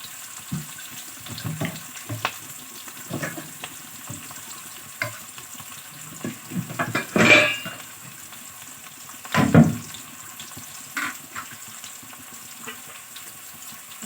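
Soybean curry frying in a pan gives soft, intermittent sizzles and a few sharper stirring scrapes, close but quiet, with no one talking.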